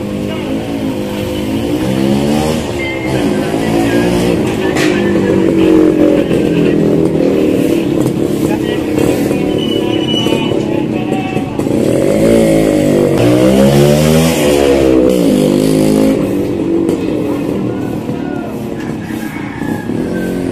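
Engine of an illegally parked vehicle during a roadside clearing operation starts and revs hard, its loud, continuous roar swelling and falling in repeated sweeps for about twenty seconds.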